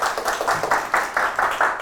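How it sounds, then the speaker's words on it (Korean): A small audience at a classical music lecture-concert gives a short round of rhythmic clapping, individual claps distinct and fairly close, lasting under two seconds. "박수 한번 주세요."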